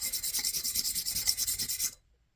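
A Stanley spokeshave blade is rubbed back and forth on a rough sharpening stone, making a steady rhythmic rasping of about fifteen quick strokes, close and fairly quiet, that stops abruptly.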